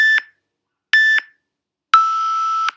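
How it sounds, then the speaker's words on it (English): A phone timer sounds three loud, clean electronic beeps. The first two are short and evenly spaced, and the third is held longer, all in a quiet room during a home morning workout. "So my phone is going to beep 3 times at the end, the last 3 seconds of every thing we're doing."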